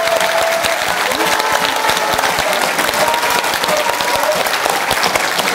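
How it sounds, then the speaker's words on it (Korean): Audience applause at a Korean talk or lecture, loud, steady dense clapping filling the whole stretch with no one speaking over it. "박수 한번 주세요"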